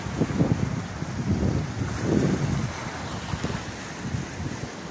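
Strong wind buffets the microphone in steady low rumbling gusts, with rough sea and big waves surging underneath throughout, at a shore where fishing boats are tied up.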